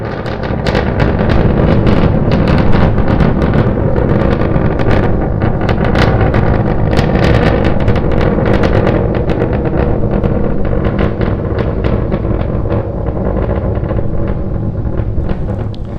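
SpaceX Starship SN9 engines during a test flight climb, a loud continuous crackling rocket roar with rapid popping texture, sustained and dense throughout with heavy wind-like rumble.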